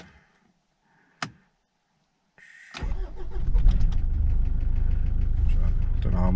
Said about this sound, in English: So, I'll show you the engine noise now.